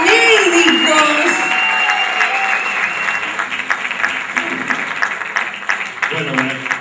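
An audience at a clown festival in Tandil, Argentina, applauds the clown doctors, loud sustained clapping that slowly thins out while someone speaks over it.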